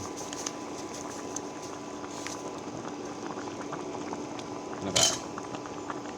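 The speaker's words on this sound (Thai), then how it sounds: "ครับรอมันเดือดแป๊บหนึ่ง" A pot of mustard green curry with snakehead fish simmers and bubbles in a steady, close boiling hiss, with one sharp clink of a utensil or pot partway through.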